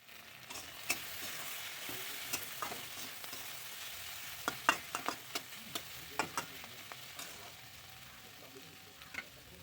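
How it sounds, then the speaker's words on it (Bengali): Broad beans and potatoes fry in a pan with a steady sizzle, broken by sharp ticks and pops of spattering oil scattered throughout, close and fairly quiet, with no talking. "শিমটাকে আর একটু ভেজে নেব।"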